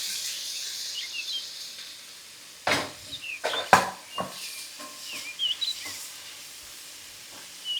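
Chopped small tomatoes sauté in sesame oil in a pan for an egg omelette kuzhambu, a faint hiss under several scraping clatters of a spoon.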